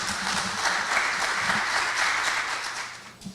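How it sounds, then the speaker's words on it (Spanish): A lecture audience at an engineers' congress of the Colegio de Ingenieros del Perú gives a brief burst of applause for an arriving guest speaker, a steady crowd clatter that fades away at the end. "para el cual pido un fuerte aplauso."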